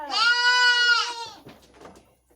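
A goat bleats once, loud and close, a drawn-out wavering call lasting about a second in a milking area, followed by quieter rustling and shuffling.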